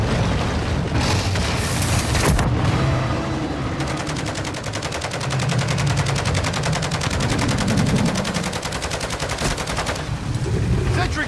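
Sentry gun in Call of Duty Modern Warfare Zombies firing continuous rapid automatic bursts amid loud game chaos, with booms and background combat noise throughout.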